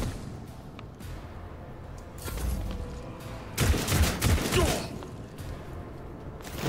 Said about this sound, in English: Bit of burst fire.